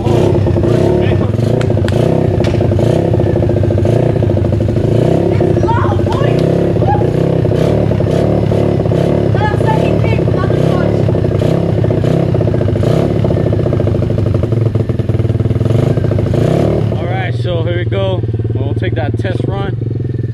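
An Apollo dirt bike engine is kick-started and then idles and revs loudly up close for the whole stretch, a throbbing mid-pitched motor note with people talking over it.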